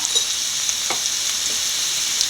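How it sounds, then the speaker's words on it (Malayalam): Onion, garlic and ginger sauté in a pan, giving a steady bright sizzle with a few soft stirring scrapes, close and continuous without speech. "സവോളയും വെളുത്തുള്ളിയും ഇഞ്ചിയും നല്ലപോലെ വഴന്നിട്ടുണ്ട്"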